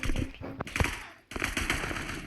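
Bursts of rapid gunfire from enemies in the 5v5 shooter video game Blockfield crackle loudly in quick clustered volleys, with a brief pause between bursts.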